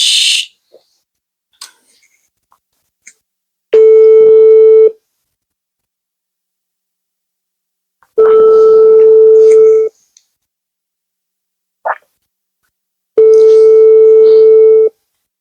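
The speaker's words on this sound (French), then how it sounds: "Bon, la famille, j'appelle ma mère." A phone call rings out, with a few faint clicks and then three long, loud, steady ringback tones spaced about four seconds apart, each lasting roughly a second and a half.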